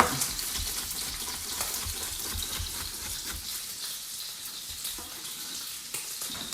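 Scampi and chopped shallot fry in a pan, making a continuous close sizzle and crackle at an even level throughout, with no talking.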